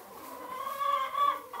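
Homestead chickens at a farm give a drawn-out, throaty clucking call, one bird close by and moderately loud, rising and wavering in pitch over under two seconds.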